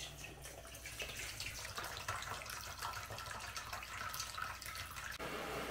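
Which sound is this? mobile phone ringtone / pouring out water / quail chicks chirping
pouring out water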